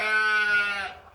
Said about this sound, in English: the sheep have never walked in here before